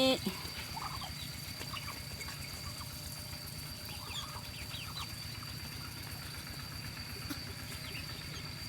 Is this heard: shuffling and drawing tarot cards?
no